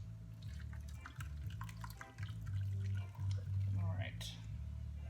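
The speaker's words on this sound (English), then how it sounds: "let's pour it into the oils" Lye solution being poured into oils to make castile soap, heard as a quiet, steady trickle and drip of liquid over a low hum, with faint voice sounds in the background.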